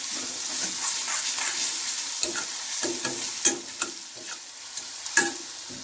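Food sizzles steadily in oil in a pan for a pasta dish with salt just added, broken by sharp scraping clicks of a spatula stirring at irregular intervals.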